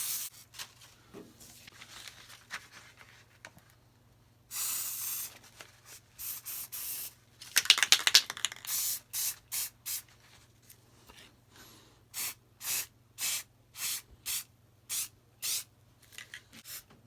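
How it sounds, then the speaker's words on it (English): Rust-Oleum Painter's Choice aerosol clear coat hisses from a spray can onto copper plating in a run of close, loud bursts, first a few longer sprays and then a quick even rhythm of short blasts. "You just got to keep spraying, and if you see bubbles, just keep spraying until they go away."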